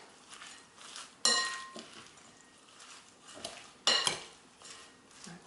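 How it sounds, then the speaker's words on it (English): Salmon and avocado salad is mixed with olive oil in a bowl, giving soft stirring with two sharp clinks of a utensil against the bowl, quiet and close. "mix it."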